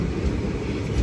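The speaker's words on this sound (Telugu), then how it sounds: "గూడ్స్ ట్రైన్ మధ్యలో." Goods train rolling past on an Indian railway line between Odisha and Chhattisgarh, a steady low rumble filling the short stretch with constant noise and no distinct clanks.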